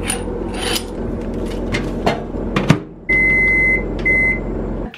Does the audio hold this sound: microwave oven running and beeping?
yes